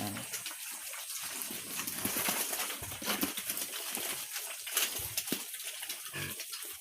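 Native piglets eat at feeding time on a farm, grunting and squealing under noisy splashing and slurping, with a voice talking faintly in the background.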